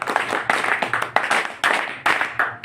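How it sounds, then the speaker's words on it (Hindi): Welcoming applause from an audience at a political organisation's gathering in India, a short burst of clapping with uneven, pulsing surges of hands, fairly loud and close, with no talk over it. "कृपया एक बार स्वागत करेंगे तालियों से"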